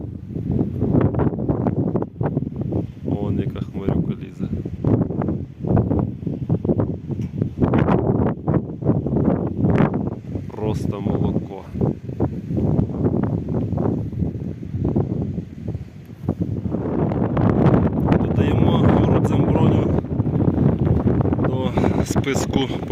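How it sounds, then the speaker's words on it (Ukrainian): Strong gusts of wind buffet the microphone in a steady roar on a mountain in the Chornohora range of the Ukrainian Carpathians, with a voice talking through it. "на горі такий вітер"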